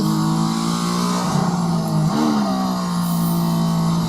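A Mercedes-AMG ONE hypercar brakes hard on a race track and downshifts toward second gear, its engine droning loudly with a steady tone, then a brief pitch rise and blip before settling into a lower hum.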